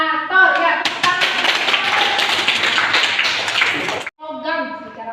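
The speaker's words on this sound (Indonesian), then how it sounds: "Ya, tepuk tangan." A class of students clapping their hands together in a steady burst of applause lasting about four seconds, ending abruptly, with a teacher's voice speaking briefly before and after it.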